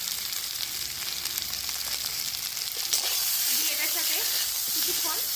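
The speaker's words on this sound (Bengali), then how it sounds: "আলুটা একটু ভাজা ভাজা করে নেবো" Boiled potatoes fry in a pan with ginger and green chili paste, giving a loud, steady sizzle and hiss close by with a few stirring scrapes, and a voice comes in briefly near the end.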